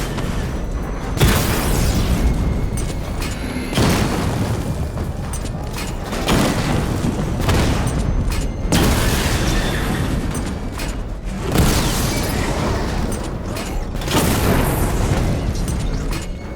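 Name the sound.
missile barrage explosions from the video game Batman: Arkham Knight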